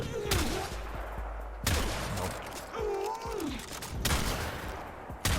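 Tigris Prime shotgun blasts in Warframe fired at point-blank range, several sharp loud booms spaced about a second or two apart, with tonal game effects ringing between shots.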